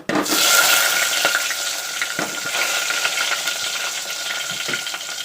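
Onions added to hot oil for okra soup, Telugu bendakaya pulusu, burst into a loud sizzle right away, then settle into a steady close crackle with a few stirring scrapes.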